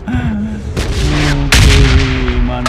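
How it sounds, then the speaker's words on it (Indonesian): Bomb explosions in the mobile game PUBG Mobile: loud booming blasts with rumbling low end, two strong hits over a steady drone of game sound. "Gila suara bomnya. Hati-hati nih, saya kena bom nih."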